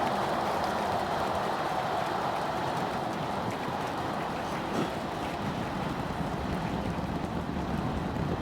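SpaceX Starship Super Heavy booster with 33 engines climbing after launch on Flight 7, a steady, dense broadband roar with no break, heard from a distance and buffeted by wind.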